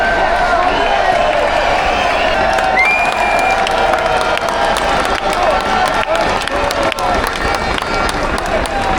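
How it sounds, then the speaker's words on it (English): A large crowd at a free speech rally cheering and roaring continuously, dense and loud, with shouts and clapping mixed in. "Look at these crowds, man."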